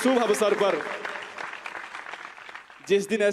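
Applause from a religious gathering audience greeting an anniversary couple rises briefly under a speaking voice, which opens and closes the moment while clapping fills the middle.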